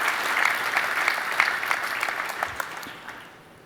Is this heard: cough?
no